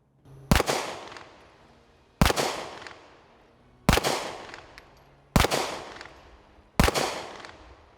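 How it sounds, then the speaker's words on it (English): Five sharp, loud pistol shots from a Springfield Armory Echelon firing standard duty-load ammunition at an outdoor range, evenly spaced about a second and a half apart, each with a brief decaying echo tail. "I'm going to shoot these because I've only shot 115s with it"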